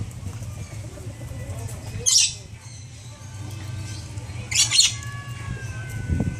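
Birds in Jamaica squawk in two sharp bursts while fighting over a freshly caught mouse, harsh calls rising above a steady low background rumble, with a fainter call near the end.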